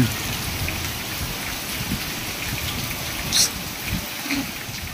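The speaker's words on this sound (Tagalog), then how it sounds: "Walang hintong ulan." Steady rain falling on surfaces in Mariveles, Bataan, a constant soft hiss with scattered drops, moderately faint and uninterrupted.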